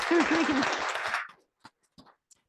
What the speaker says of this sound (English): Maybe another round of applause.